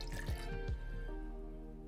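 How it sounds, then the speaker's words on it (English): Soju pours into a cup already holding ice cubes, a short close gurgle and splash of liquid that settles into a quiet trickle, with no voices. "And then I'm gonna put in 1 part soju."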